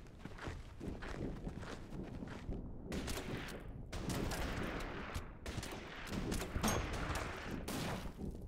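Battle sounds from the strategy war game Order of Battle: Burma Road, with bursts of gunfire and rattling volleys, dense and continuous at moderate loudness.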